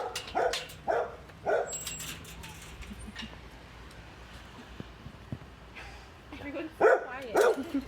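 Dogs bark in a large daycare yard for bigger, rambunctious pups, with a few distant barks early on and more bursts near the end over quiet outdoor ambience.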